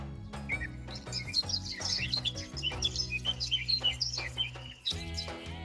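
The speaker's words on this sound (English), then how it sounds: "the calls of over 130 species of birds" Birds call and chirp in a Kenyan mountain forest, with many bright, quick tweets scattered over a steady low musical bed.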